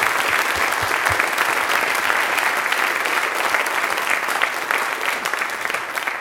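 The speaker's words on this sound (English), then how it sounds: "Please give a round of applause." An audience applauding at a talk on Christianity, sustained dense clapping from a sizeable crowd, loud and even from start to finish.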